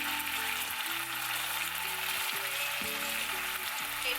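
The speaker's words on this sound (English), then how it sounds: "fry the garlic until it's brown" Garlic fries with hoisin sauce in a pan, a steady close sizzle and hiss beneath louder tonal background music that plays throughout.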